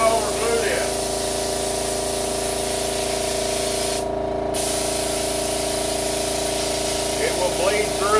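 Glue sprayed onto jute upholstery padding for a 1959 Ford 300, a loud steady hiss that runs nearly unbroken with a brief pause midway, alongside a constant mechanical hum.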